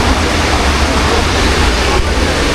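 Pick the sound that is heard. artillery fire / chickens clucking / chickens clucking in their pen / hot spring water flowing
hot spring water flowing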